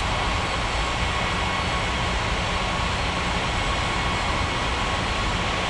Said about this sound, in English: Europa 2281, ready for takeoff runway 28.